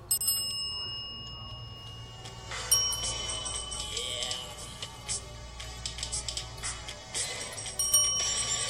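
A small bell, rung by a cat, rings repeatedly in bright, ringing strokes, some overlapping, over a faint steady hum; no talking.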